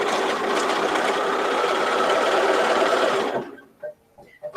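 A B570 sewing machine stitches pieced quilt blocks of half-square triangles, running with a steady close mechanical whir for about three seconds before stopping abruptly, leaving a few faint clicks.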